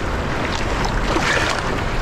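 Lake waves slap and wash against a canoe in a steady, dense rush of water and wind noise, close and fairly loud with no talk.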